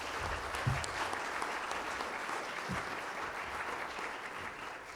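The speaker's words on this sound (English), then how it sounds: "Let's have a round of applause for these candidates," A steady wave of applause from an audience saluting local election candidates at a meet-the-candidates event, dense and continuous clapping filling the room throughout.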